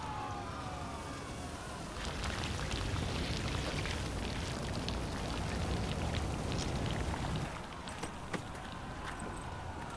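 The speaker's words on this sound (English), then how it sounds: "Looks like rain." Rain falling in the video game The Witcher 3: The Wild Hunt, a soft, steady hiss of drops with scattered patters, faint and continuous throughout.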